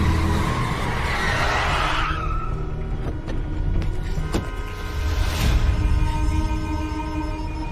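A car skids loudly as it swings around in a sharp turn, a long broad tire screech swelling and fading over several seconds, with scraping and engine noise beneath.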